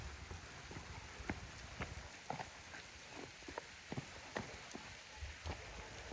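Steady rain patters on the Triund trek in Himachal, with scattered drips and drops tapping on a nearby surface, fairly quiet and continuous with no voices.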